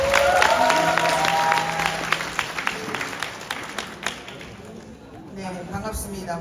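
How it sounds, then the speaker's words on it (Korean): An audience claps to welcome a speaker to the stage at a community gathering, with loud applause at first over a voice and tones, thinning into scattered individual claps that fade out near the end. "웅동 황은영 대표님을 힘찬 박수로 모시겠습니다."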